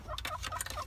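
A chicken clucks in a quick run of short, squawky calls, close and fairly clear, from inside a 2005 GMC Sierra pickup truck.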